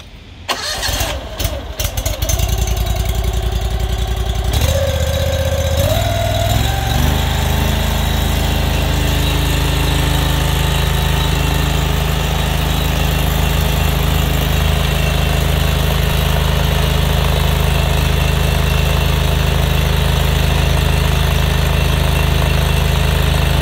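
A drain jetter's engine is pulled and coughs through a few rough attempts, then catches and settles into a loud, steady running drone that holds without a break.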